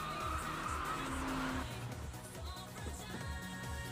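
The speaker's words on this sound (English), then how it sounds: "At the end of the corner, open up the throttle and book it." A race car revs and squeals its tires in an Initial D anime street-racing scene, engine tones rising in pitch through the first half, then a steady drone under loud background music.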